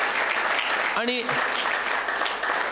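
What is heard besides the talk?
audience applause for the three artists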